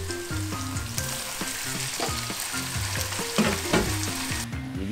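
Meat sautéing in a pan with pepper for Bicol Express, a loud, steady sizzle with stirring scrapes, under a musical backing with a repeating low pattern.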